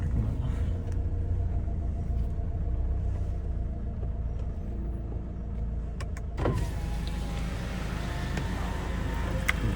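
A Toyota Innova is parked with a steady low engine rumble inside the car throughout, a few faint clicks, and a brief whirring swell partway through.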